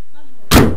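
A single solid slam of a Jaguar Mk2 3.8 car door shutting, loud and close, after a moment of quiet.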